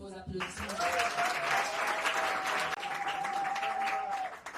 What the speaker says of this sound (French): Et ça va t'encourager sous vos applaudissements.